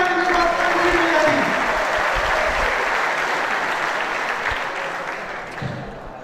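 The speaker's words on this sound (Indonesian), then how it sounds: "Sekali lagi tepuk tangan untuk Pak Deddy." Audience applause for a guest lecturer at a police staff college event, a dense wash of clapping that starts loud and slowly fades over several seconds.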